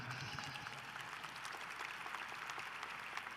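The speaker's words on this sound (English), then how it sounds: "You can clap for that." A commencement crowd at a December 2019 ceremony applauds steadily, a thick, even wash of many hands clapping throughout.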